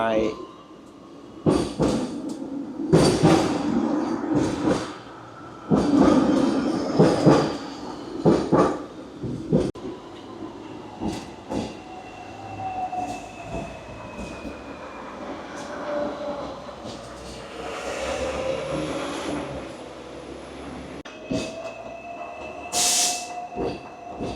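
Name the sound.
Hong Kong tram running at night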